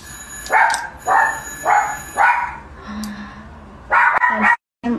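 A female dog barks repeatedly in a steady run of about six or seven loud, close barks, with short pauses between them.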